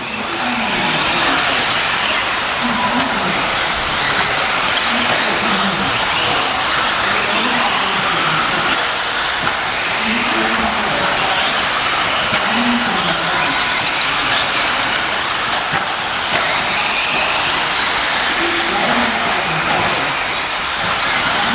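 An AE B7D electric RC buggy races around a local track, its high-pitched motor whine loud and continuous, swelling and fading as it laps through tight corners, with no talking.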